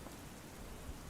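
Steady rain falls in a continuous soft hiss of dense drops, an even wash of sound with no voices over it.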